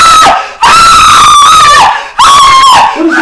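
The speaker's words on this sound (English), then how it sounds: "Why are you screaming like that?" A person screams very loudly and close, in two long piercing sustained cries separated by a brief breath, during a dramatic scene in a Nigerian movie.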